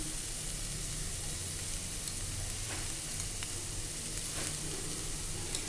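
Sautéed cabbage sizzles in a pan as it cooks, a steady broad hiss held at an even level throughout, near and moderately quiet, with a couple of faint clinks and no speech.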